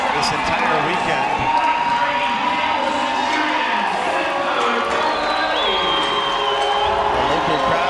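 Energetic crowd at a swim meet cheering on a swimmer, a continuous wall of shouts, whoops and applause filling the venue at steady high loudness throughout.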